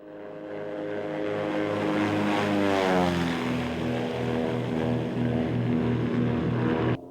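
A Cessna Skymaster twin-engine propeller airplane drones steadily overhead above an airport, its loud throbbing engine tone rising to a peak and shifting pitch as it passes, sustained throughout with no talk.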